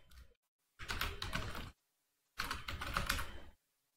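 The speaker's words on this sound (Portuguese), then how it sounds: "vou digitar aqui." Two bursts of typing on a computer keyboard during a lecture on Bézier curves, each lasting about a second, close and fairly loud with a pause between them and no talk over the keys.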